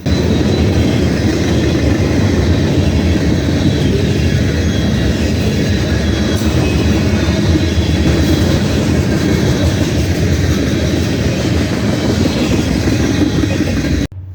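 A freight train including a Pan Am boxcar rolls steadily past close by, a loud continuous roar of wheels and rail noise that holds for the full length before cutting off abruptly at the end.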